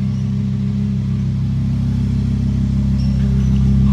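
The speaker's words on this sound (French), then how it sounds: "oh, que c'est beau, hein, ça ronronne. Donc 5 V10 FSI, 5 litres 2" A 5.2-litre FSI V10 in an Audi R8 V10 performance quattro coupé idles with a steady, deep, smooth purr, close and loud, holding an even drone throughout without speech.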